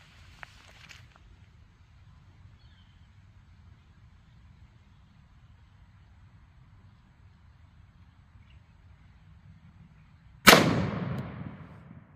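A single loud gunshot from a .500 S&W Magnum revolver firing Corbon DPX 275-grain solid copper hollow points outdoors, a sharp blast with a long decaying tail after a stretch of quiet.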